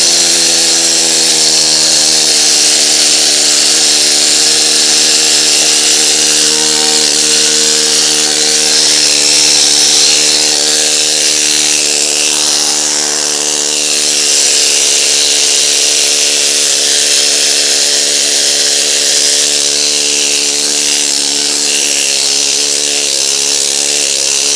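A needle scaler descaler hammers rust off a metal surface with a loud, continuous high-pitched buzzing rattle that holds steady at close range for the whole stretch.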